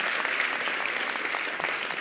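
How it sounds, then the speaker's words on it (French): Steady audience applause at a speaker awards event, dense continuous clapping throughout without pauses, moderately loud and close. "Sur les applaudissements."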